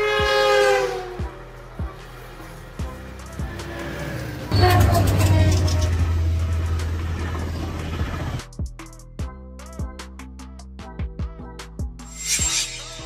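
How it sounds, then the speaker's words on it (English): A double-decker passenger train sounds its horn in long, loud tones over a rolling rail rumble, with rhythmic wheel clicks continuing after the horn stops. "A train with two levels of passenger seating, allowing for increased capacity without increasing the length of the train."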